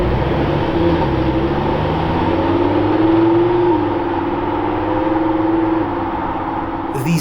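A brand-new Lamborghini Huracán Sterrato pulling away from the factory, its engine a loud, steady drone that rises in pitch midway then eases, cutting off abruptly at the end.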